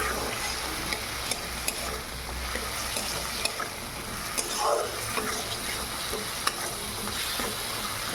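Peas and egg sizzle steadily in a frying pan while being stirred, a constant close hiss broken by occasional light spatula taps and scrapes.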